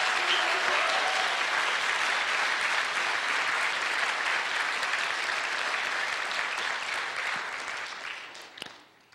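Sustained applause from a live lecture audience, dense and steady throughout before tapering off at the very end, with no talking over it.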